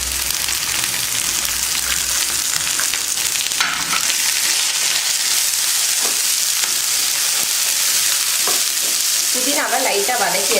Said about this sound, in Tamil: புதினாவை லைட்டாக வதக்கியாச்சு